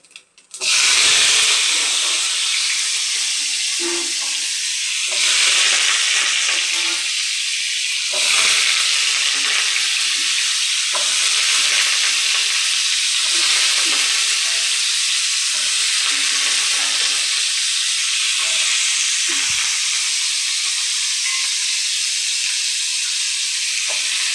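Potato pieces sizzle and fry steadily in hot oil in a pan, with occasional stirring, for Bengali jhinge bora; a continuous, close, loud hiss throughout.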